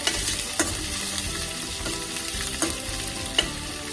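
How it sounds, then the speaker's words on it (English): Cilantro sizzles in a hot pan over medium heat as part of a potato dish, a steady close crackling fry with occasional stirring scrapes and no talking. "Let's heat to medium. And let's put the cilantro."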